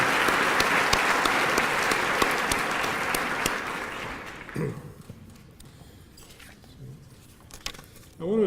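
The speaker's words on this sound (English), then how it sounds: "I'd like you all to give a round of applause for our new class of 2022." Audience at a white coat ceremony for a new medical class gives a loud, sustained round of applause that fades after about four seconds, leaving a quiet room with a few faint sounds.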